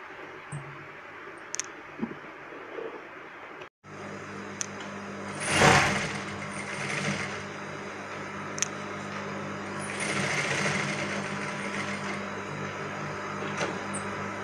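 A sewing machine runs in steady close bursts, stitching the side seam of a gathered frock from the armhole down to the hem, with brief pauses between runs.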